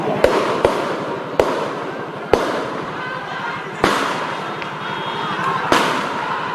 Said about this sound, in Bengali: উপর্যুপুরে গুলির শব্দ আমরা পাচ্ছি।